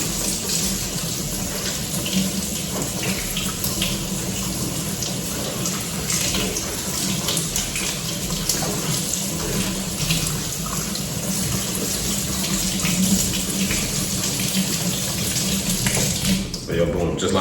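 Cold tap water gushes steadily over fruit in a sink, a loud, unbroken splashing stream that runs the whole time.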